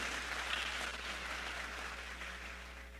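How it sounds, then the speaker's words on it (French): Audience at a Haitian Baptist convention assembly applauding the evangelism committee pastors, a steady wash of clapping held at an even level throughout, set against a low electrical hum. "je vous demande de les applaudir"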